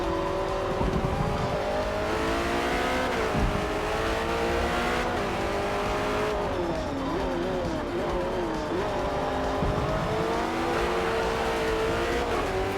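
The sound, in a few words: race car tires squealing in a corner, Forza Motorsport video game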